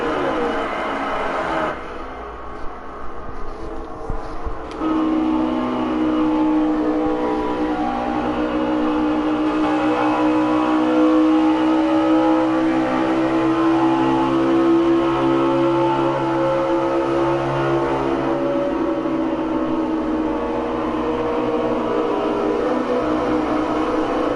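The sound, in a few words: Xfinity race car engine revving in racing video game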